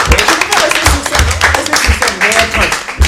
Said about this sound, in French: Bravo, on vous applaudit très très très fort, mesdames et messieurs